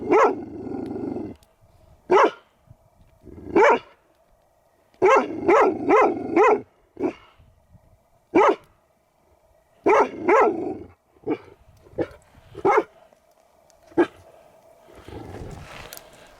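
A dog barks repeatedly in irregular bursts at a cabin in Death Valley National Park, some in quick runs of three or four, over a faint steady hum, ending in rustling.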